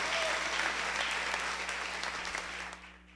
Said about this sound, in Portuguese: merece palmas para Jesus